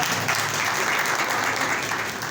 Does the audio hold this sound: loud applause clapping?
yes